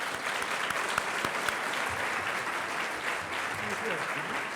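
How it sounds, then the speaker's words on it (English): Audience applause at an annual conference welcome and opening keynote, steady and dense clapping from a room full of people that holds evenly for several seconds. "Give him a round of applause."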